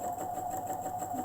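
A sewing machine stitches a pleated fabric mask over elastic, running steadily and close up with a constant hum throughout the short burst.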